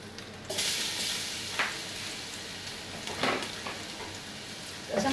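Garlic sizzles as it drops into a hot pan, a sudden burst of frying hiss that settles into a steady sizzle, with a few stirring scrapes and clinks along the way.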